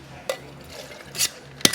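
Ice cubes drop into a glass for a classic Mai Tai in a hotel bar, three short, distinct clinks spaced apart against a quiet room.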